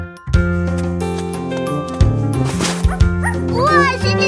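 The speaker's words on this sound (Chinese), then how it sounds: "哇，是只小狗！" A cartoon puppy in a children's nursery rhyme yips and barks in short bright bursts over a busy musical backing with chimes and effects, loud and close.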